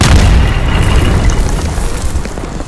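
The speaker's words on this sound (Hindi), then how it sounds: "इसके अलावा इजराइल की सेना ने तोप के गोले भी बरसाए" A loud, deep explosive boom of an artillery shell followed by a long rumbling roar that slowly fades, heard alone without any talking.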